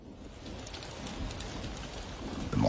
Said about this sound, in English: The monsoon rain feeds the tropical flora and fauna.